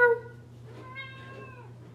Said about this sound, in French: si je fais un bruit de chat, elle me répond